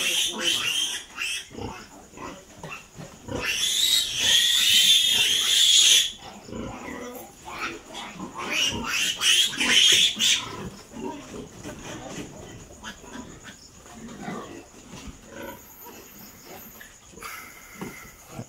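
Newborn piglets on a hog farm squeal loudly and continuously in shrill bursts that swell and fade across the whole stretch, crowded and close, with a steady insect-like buzz in the background.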